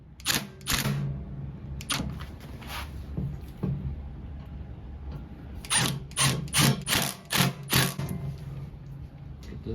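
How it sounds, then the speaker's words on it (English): An impact driver tightens the large screws on the leg of a Singer treadle sewing machine stand. It fires in short, sharp rattling bursts, a few early on and then a rapid close-up cluster near the end. "Now I'm going to use an impact because they do have to be somewhat tight so that they don't loosen during vibration."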